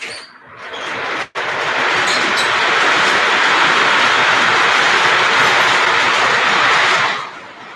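Model train running on layout track, hauling coal cars: a loud, continuous rolling rumble and rail hiss that builds after a brief break near the start, holds steady, then eases off at the end.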